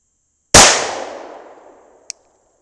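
A single loud 9mm shot of a 65-grain Inceptor ARX frangible plastic bullet fired outdoors at small steel plates, a sharp crack with a long fading echo, then a faint metallic ping from the plate.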